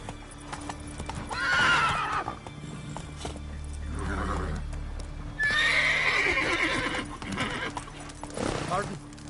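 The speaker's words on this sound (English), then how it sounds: "Run, Roach." Hoofbeats of a horse galloping in The Witcher 3 game, a steady clip-clop rhythm with a whinny, layered under game sounds and a voice talking over it.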